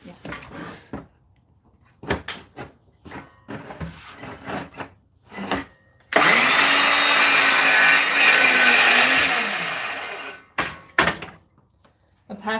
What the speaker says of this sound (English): Apache wants to know how you like the CNT blade. CNT blade's awesome